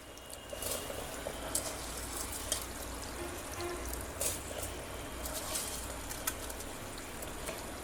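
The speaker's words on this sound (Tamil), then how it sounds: "இப்போ இந்த அரிசி சேர்த்துக்கலாம்." Washed, drained rice tipped into a pot of boiling water for plantain flower biryani, giving a steady bubbling, sizzling wash with small splashes and clinks over about eight seconds, no talking.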